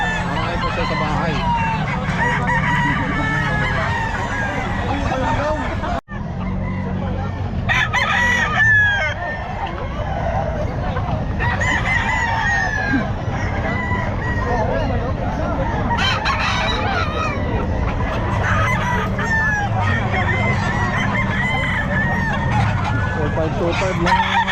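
A stag rooster crows loudly and repeatedly from close by, its calls mixed with steady clucking and other fowl noise, while people talk in the background.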